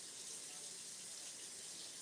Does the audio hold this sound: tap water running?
yes